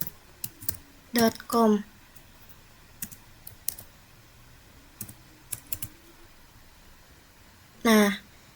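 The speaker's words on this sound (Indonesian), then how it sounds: "Di sini kita coba ketik" Scattered keystrokes on a computer keyboard, sparse crisp clicks spread across several seconds, with a few short bursts of speech in between.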